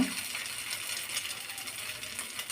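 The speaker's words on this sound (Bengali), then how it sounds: "এখন আমি তেলের ভিতরে এভাবে পকোড়াগুলো দিয়ে দিব।" Pakoras lowered into a shallow layer of hot oil set off a steady, close, hissing sizzle with fine crackle that holds evenly throughout, with no voices.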